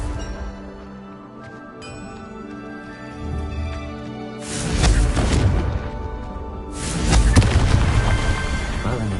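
Two big blasts from the Confringo blasting spell in a Harry Potter video game, each a loud, sudden explosive burst with a rumbling tail, following quieter ambient game tones.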